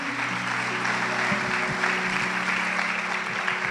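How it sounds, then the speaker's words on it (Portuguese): A church congregation applauds steadily, a dense wash of clapping heard throughout with a sustained musical tone beneath it. "Aplauda Jesus pela vida dele."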